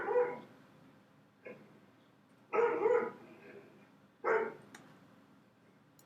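Dog barking sound effect played back inside PowerPoint on a Mac, several separate barks with gaps between them, moderately loud over a faint background hiss.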